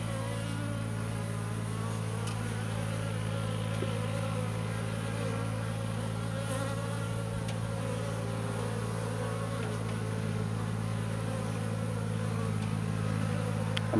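Honeybees buzzing around a newly established backyard hive infested with varroa mites, a continuous low droning hum of many wings, steady and moderately quiet with no talking.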